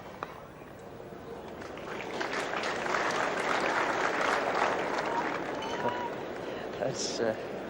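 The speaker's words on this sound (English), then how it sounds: "That's rather enthusiastic applause for a" Crowd applause at a 1974 New Zealand versus Australia cricket test, swelling into sustained clapping from a distant stadium audience for a defensive stroke, with commentary voice over it.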